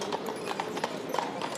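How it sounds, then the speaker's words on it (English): Hooves of a horse-drawn carriage bearing a casket clip-clop steadily on pavement at a funeral procession in Harlem, a brisk even rhythm heard at moderate distance over a wash of street noise. "A horse-drawn carriage brought the casket of Xenia Foot Mate to the midday service."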